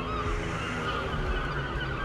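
Gulls calling outdoors, a run of harsh, honking cries overlapping one another at moderate volume against a steady background hum, with no talking.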